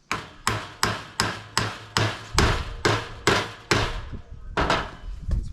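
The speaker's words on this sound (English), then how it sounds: "So I've got a rubber hammer here" A dozen sharp, evenly spaced rubber hammer blows ring out one after another, close and loud, each thud decaying before the next strike, knocking corner pieces into an FJ Cruiser cargo barrier.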